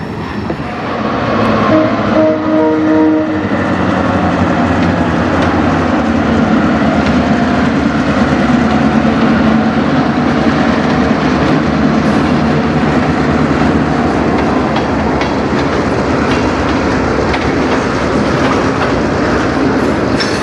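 A CN freight train rolls past on the Strathroy Subdivision near Sarnia, a steady loud rumble with clickety-clack of railcars over the joints, and a brief tonal horn-like sound early on.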